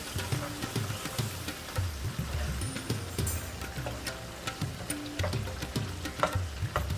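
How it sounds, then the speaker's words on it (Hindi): Chicken frying in a karahi with tomatoes, a steady sizzle broken by repeated scraping and knocking strokes of a spatula as the pieces are stirred, close and moderately loud with no talking. "चिकन को थोड़ा सा हिलाएंगे"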